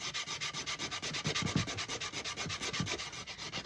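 A hickory axe handle being sanded by hand makes rapid, rhythmic back-and-forth rasping strokes, close and steady, with no talking.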